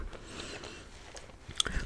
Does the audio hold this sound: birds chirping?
no